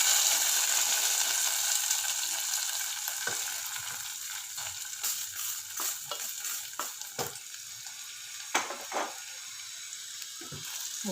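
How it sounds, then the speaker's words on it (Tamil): Curry leaves crackling and sizzling in hot oil for kodo millet pongal, with steady frying hiss and scattered sharp pops and spatters close by, with no talking. "கருவேப்பிலை போடணும். அது பொரிஞ்சிருக்கு."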